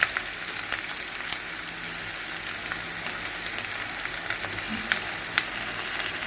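Crushed ginger and garlic sizzle in hot oil in a pan for bhindi masala, a steady close crackling hiss with small pops and no voices.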